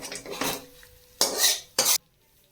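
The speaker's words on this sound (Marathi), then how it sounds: "ही फोडणीसाठी त्या पोह्यांवरती ओतून घेणार आहे" Hot tempering with asafoetida poured from a pan over curd poha, metal pan clanks and scraping utensil sounds in a few sharp bursts, close and loud, then silence.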